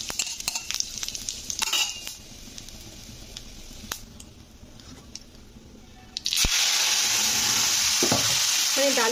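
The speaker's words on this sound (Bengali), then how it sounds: "ডালটাকে একটু ফোড়ন দিয়ে একটু ছুঁকে নেব।" Dal being tempered with dry red chilli and cumin: loud hissing sizzle swells up as the spices hit hot oil, after a stretch of softer stirring and light clinks.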